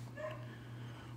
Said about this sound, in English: if you can hear the dogs, I'm pretty sure they're barking at the mailman right now